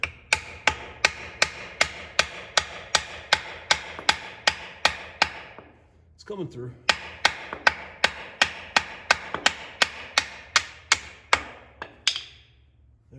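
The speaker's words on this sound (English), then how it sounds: "So give it a couple gentle taps here with a hammer." A hammer gives gentle, evenly spaced metallic taps to a steering pivot pin on an International 986 tractor. About two dozen close, sharp strikes come in a steady rhythm, broken by a short pause with a brief voice.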